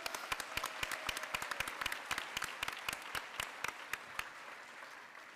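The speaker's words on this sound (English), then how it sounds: "So let's give them another round of applause." Applause at a school board meeting honoring student athletes, a steady patter of individual claps that is moderately close and fades out near the end, with no talking.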